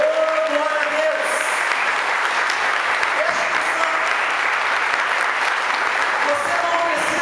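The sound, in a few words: church congregation applauding for Jesus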